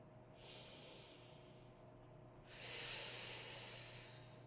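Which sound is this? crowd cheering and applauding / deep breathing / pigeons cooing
deep breathing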